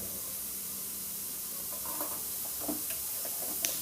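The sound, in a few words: beetroot chutney ingredients frying and being stirred in a pan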